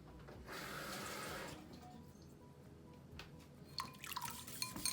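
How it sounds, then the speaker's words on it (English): A short burst of a quarter cup of water pouring into a pot on the stove from about half a second to one and a half seconds, followed by quieter clinks and drips, with no talking. "So guys, I add 1/4 of a cup of water."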